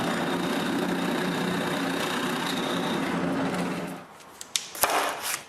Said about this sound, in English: Mark the placement for the power cord and drill the hole.